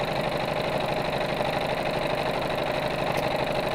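A straight stitch sewing machine sews down the top of fabric with the tension raised for gathering, producing a continuous close motor hum with a fast, even mechanical pulse throughout.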